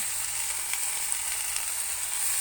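Spinach cooked with potato, eggplant, peas and cauliflower sizzles steadily in a pan, a constant bright hiss of frying with no talking.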